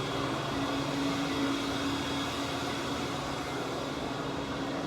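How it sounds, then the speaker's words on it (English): A vacuum cleaner runs in a quiet, deserted spot by an empty pool near Lake Texoma, a steady broadband whoosh and hum that holds evenly from start to finish with no voices. "Gentleman just started up a vacuum."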